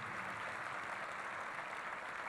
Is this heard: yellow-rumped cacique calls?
no